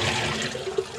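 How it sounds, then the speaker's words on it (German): Sugar water left in the bottom of a beekeeping bucket is tipped into a street drain, a brief, loud, continuous splashing gush close by. "Das kippe ich immer hier ab in den Gulli."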